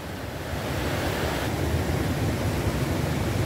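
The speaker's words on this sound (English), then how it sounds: "I want you guys to see these beautiful waterfalls" Waterfalls on the Tellico River give a steady, dense rushing roar of falling water, broadband and unbroken, close by and loud, with no voices.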